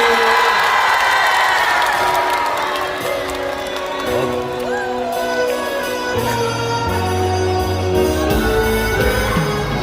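A crowd at a song launch event in a shopping mall cheers and claps steadily and loudly, while a band starts playing music underneath and swells toward the end.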